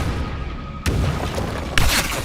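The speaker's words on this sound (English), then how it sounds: "Acid grenades. Yeah, acid grenades." Acid grenades detonate in the tactical biopunk game Deep Fringe, with two sharp booms about a second apart, each with a short hissing, crackling tail over a steady background hum.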